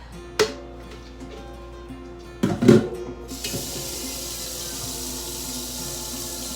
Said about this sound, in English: we're gonna fill that up with water